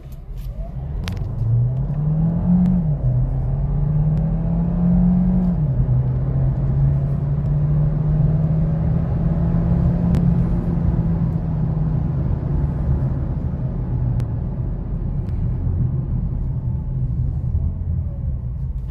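A Hyundai Tucson hybrid with a 1.6 TGI engine and 64 kW battery accelerates hard from 0 to 100, engine droning steadily and climbing in pitch before leveling off, with a constant loud road rumble throughout.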